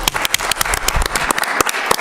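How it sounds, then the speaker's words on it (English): Audience applause at a city council meeting for coaches and parents, a short burst of dense, steady clapping from a room of people. "So let's give them a round of applause."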